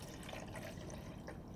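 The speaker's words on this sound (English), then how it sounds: "I'm just gonna pour a little bit of fog liquid inside the machine" Fog machine fluid poured into the machine's container, a faint continuous trickle and gurgle of liquid, steady and low throughout with no talking.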